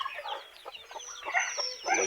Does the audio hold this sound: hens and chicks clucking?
yes